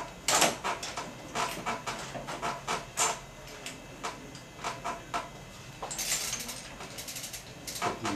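A metal chain is worked around a sprocket while mounting bolts are snugged, giving irregular light rattles and ratcheting clicks in quick, uneven bursts, close up, with no talking.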